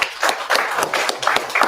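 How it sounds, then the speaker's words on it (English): A small audience claps for a panel at an international religious leaders' forum, with a brief burst of scattered hand claps close by and fairly quiet. "Can we all give a big round of applause for them?"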